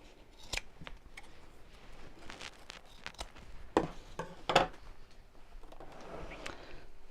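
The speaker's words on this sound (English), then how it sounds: "So now I can chop off the ends of the zips." Sewing scissors snip through the ends of zips on a fabric pouch, several separate crisp cuts spaced unevenly and close by, with two louder snips in the middle and no talking.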